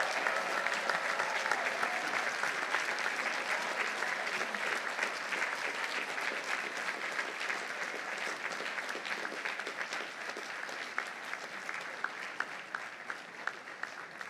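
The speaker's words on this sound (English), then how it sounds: "Graduates, please stand and applaud these individuals who have contributed to your success over these many years." Standing graduates at a commencement ceremony applaud faculty and staff, a long, sustained crowd of many hands clapping in a large hall, steady and fairly loud, with a few sharper individual claps as it tails off.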